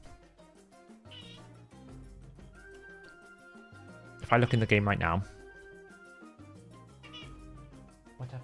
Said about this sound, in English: what up, cat?